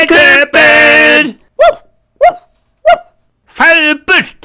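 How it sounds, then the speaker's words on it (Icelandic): A puppet dog in a children's show barks in a few short, sharp yaps spaced out after louder spoken lines, close and clear, with voices talking around them. "Farðu burt, heimski hundur"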